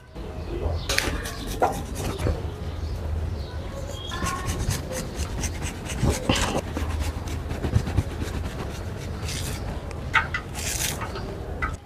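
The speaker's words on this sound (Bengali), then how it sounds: "এখন আমি রসুন আর আদা গ্রেট করে লিম" Garlic and ginger rubbed on a grater for chilli paneer, with repeated rasping scrapes in irregular bursts, close and fairly loud, under intermittent talking.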